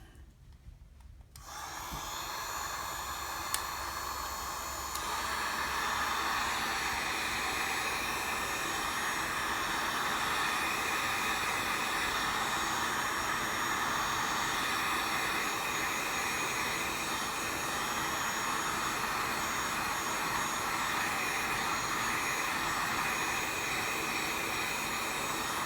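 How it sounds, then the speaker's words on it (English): A heat gun blowing hot air onto an LG G Vista phone screen to loosen the adhesive starts after a moment of quiet, then holds a steady, loud whooshing roar. "take a heat gun. Start blowing the heat around here"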